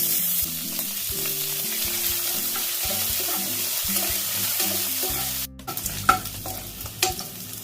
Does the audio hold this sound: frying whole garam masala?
yes